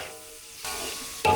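Ingredients for tom yum prawns sautéing in a hot pan, a steady close sizzle that swells midway and ends with a louder burst as something is stirred or added.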